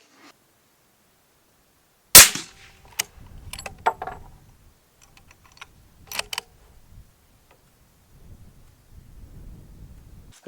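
Rifle cartridges clicking into the chamber of a Browning X-Bolt bolt-action rifle in .308, one loud metallic snap followed by a series of lighter clicks and scrapes, close and isolated in a quiet room.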